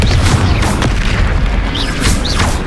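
A Confringo fire-blast spell detonating during a Hogwarts Legacy battle, a dense booming burst with heavy low rumble sustained throughout, with bright whooshing sweeps layered on top.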